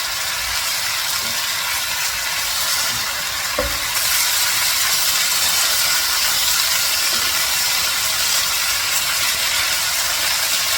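Chicken and broccoli stir fry sizzles loudly and continuously in a hot pan as sauce is stirred through, a dense steady hiss with occasional utensil scrapes and no talking.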